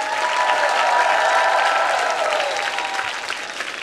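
A studio audience bursts into applause for a child who has just won a prize, a dense, loud wash of clapping that holds steady and eases slightly toward the end, with a faint crowd murmur.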